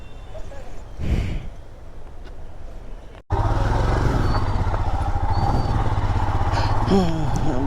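A Royal Enfield Himalayan 411cc motorcycle on a misty hill, quiet breathy sounds at first, then the single-cylinder engine abruptly starts and settles into a loud, steady, close idle with slight revving near the end.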